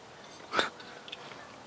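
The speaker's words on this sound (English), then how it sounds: "What's the dog barking?" A single short dog bark, faint and distant, rings out once near abandoned church ruins against a quiet background.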